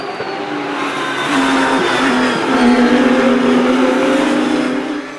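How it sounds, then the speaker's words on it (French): Porsche 992 Cup race cars battle for the lead at Val de Vienne circuit, with loud, close engine roar that rises and holds as they scream past together. "Superbe duel en tête entre les 2 Porsche 992 Cup de Beltoise et Van de Vostin."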